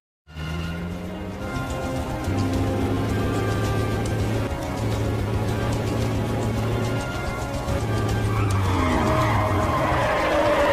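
Cars in a film scene speed up and skid with a sustained tire squeal and engine roar, building over several seconds as they race toward a collision; no speech.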